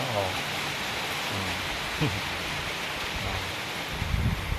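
Steady rain falls with a soft, continuous hiss, faint and even, with a few brief low bumps underneath.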